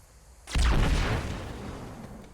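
A frag grenade in Planetside 2 goes off with a single sudden loud blast after a quiet moment, its rumbling boom decaying slowly over the next two seconds.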